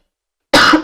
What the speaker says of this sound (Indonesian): Mohon maaf, lagi batuk teman-teman ya